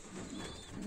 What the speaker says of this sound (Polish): Mamy tu gołąbki.